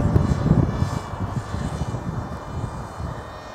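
A Bixler FPV model plane's electric motor drones steadily in night flight over Pudsey, a loud continuous buzzing whine that eases slightly as it goes on.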